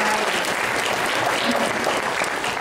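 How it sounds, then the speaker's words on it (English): Sustained applause from a conference audience, an even wash of many hands clapping at moderate volume throughout, with no talking over it. "round of applause again."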